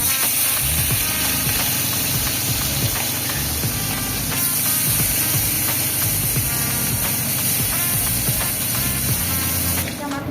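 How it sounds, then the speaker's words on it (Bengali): Prawns fry in hot oil with a loud, constant spraying sizzle and hiss under a low rumbling background, steady and close for the whole stretch. "মা চিংড়ি মাছ ভেজে নিচ্ছে এবারে"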